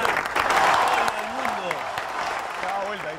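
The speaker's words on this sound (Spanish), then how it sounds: "Un aplauso." A television studio audience applauds a guest, a brief, busy round of clapping with voices talking over it throughout.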